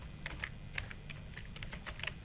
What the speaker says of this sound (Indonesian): Bapak Ibu di sini ketikkan saja ulangan.